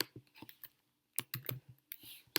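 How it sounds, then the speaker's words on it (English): Keyboard typing while a name is entered into an electronic signature form: short irregular bursts of clicks near and fairly quiet, with a pause midway and a faint voice briefly present. "then you will type your name in"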